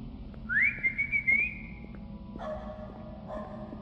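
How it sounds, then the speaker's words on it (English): In the horror game KIRA, a single rising, sustained whistle is answered after a short pause by a couple of muffled, distant dog barks echoing from the sewer tunnels, with no talking. "you're able to whistle, which causes your dog, Danny, to bark back at you"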